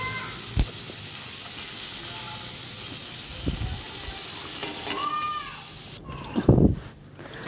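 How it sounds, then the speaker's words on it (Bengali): Hilsa fish pieces fry in oil in a pan and are turned over, giving a steady close sizzle and hiss with a few scraping clatters near the end. "এক পিট ভাজা হয়ে গেছে আর এক পিট উল্টে নিচ্ছি"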